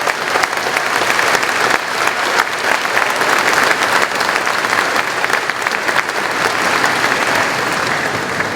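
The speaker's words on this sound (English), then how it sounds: "And they do deserve a round of applause." Loud, continuous applause from a crowd at a high school graduation ceremony for the class of 2023, dense clapping holding steady throughout.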